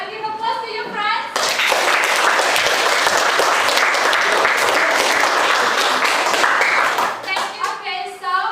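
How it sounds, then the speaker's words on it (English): Applause breaks out in a classroom, a dense burst of many hands clapping for several seconds before fading, with a teacher's voice briefly before and after. "And give applause to your friends."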